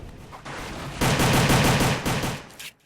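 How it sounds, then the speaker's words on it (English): Rapid gunshots ring out in a Roblox zombie game, a steady rattle of closely spaced shots that starts quieter and then swells to a loud, continuous burst before cutting off. "Okay, shoot the zombie, take him out in my little fort."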